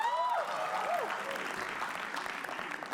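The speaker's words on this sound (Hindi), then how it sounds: "तालियां एक बार प्लीज।" Audience applause erupts at a comedy roast, a dense crowd clapping that keeps going for the whole stretch, with a voice speaking briefly over the start.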